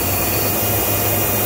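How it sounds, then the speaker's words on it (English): Spindle of a Mazak SQT 18MS CNC turning center spinning, heard from about a foot away as a steady, loud broadband whirring hum with a faint high tone and no speech. "I'm about 12 inches away from the spindle. It's very quiet."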